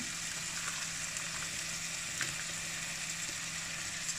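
Rice tipped into a hot pan for a Spanish-style risotto seasoned with Espelette pepper sizzles steadily, an even, close frying hiss with faint crackles and stirring, no talk.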